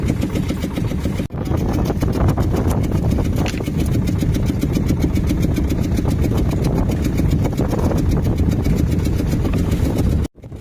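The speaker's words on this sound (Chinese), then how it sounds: "船也是要加大油门才能前进一些" Fishing boat engine running steadily at sea, loud and continuous, throttled up while nets are hauled in rough, windy water, with a brief dip near the start and at the end.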